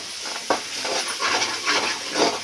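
Minced mutton keema mixture is stirred in a pan, giving soft repeated scraping and sizzling strokes in an uneven rhythm, close and moderately quiet.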